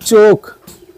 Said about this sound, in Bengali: এটা একটা মাদি কবুতর